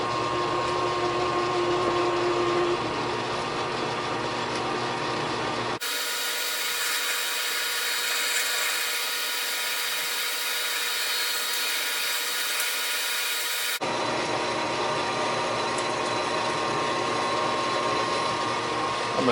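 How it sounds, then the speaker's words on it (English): Metal lathe slowly drilling a bore all the way through a steel adaptor for a 50-ton Porta Power ram, a steady grinding, whirring drone that runs continuously with a brief change in tone midway, no talking. "we're going to drill this guy the whole way through."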